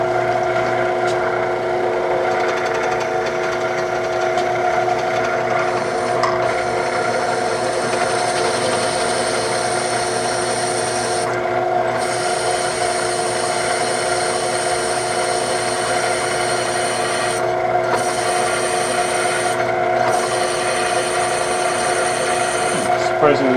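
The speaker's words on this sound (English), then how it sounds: "I'll have to figure out how to do this on the drill press." A drill press boring a hole in a small metal part for a home-built fitting, its steady motor hum and whirring tone running continuously and fairly loud throughout with a few brief dips, no talking.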